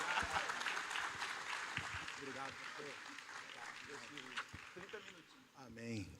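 A church congregation applauds to welcome the vice-director pastor of Macaé 1, steady clapping from a crowd with talk running over it throughout, tapering before a voice rises near the end.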